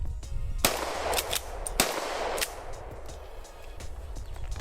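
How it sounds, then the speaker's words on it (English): KEG410 .410 shotgun firing a few rounds outdoors, each a loud, sharp blast with a ringing tail, the shots spaced about a second apart and followed by lingering background noise. "we're gonna fire a couple more rounds off here"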